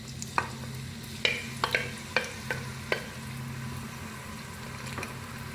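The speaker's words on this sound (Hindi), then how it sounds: "अब इसमें प्याज शामिल करते हैं।" Chopped onions sizzling in oil for a mutton kofta curry under a low hum, punctuated by several sharp clinks and scrapes of a spatula stirring against the pan.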